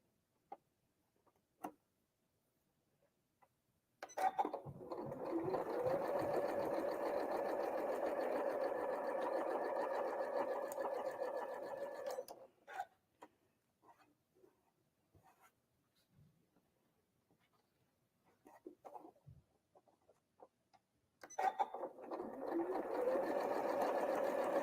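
A sewing machine stitches a quilt block in two bursts of fast, even running, separated by a quieter stretch of faint handling clicks, heard close and clear with no talk over the stitching.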